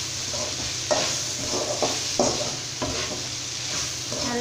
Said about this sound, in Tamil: இப்போ இது எல்லாமே சேர்த்து நம்ம நல்லா மிக்ஸ் பண்ணி விட்டுடலாம்